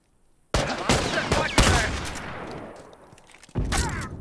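Rifle fire in The Last of Us Factions multiplayer: a few loud, close, sharp shots, then a sustained burst with a decaying echo tail and another loud volley near the end.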